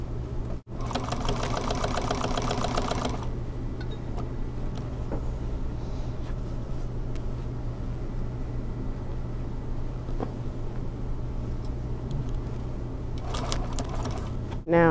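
Sewing machine stitching a boxed cushion with piping cord: a fast rapid-fire stitching burst at the start and another near the end, with a low steady motor hum between them.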